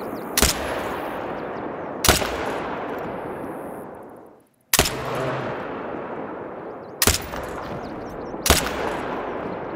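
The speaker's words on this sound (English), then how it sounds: "I even shot it twice because I, you know, I just got a little impatient" Gunshots from a hunter's rifle aimed at a bear ring out five times at irregular intervals, each loud sharp crack trailing into a long echoing decay across open terrain, with a brief silent gap midway.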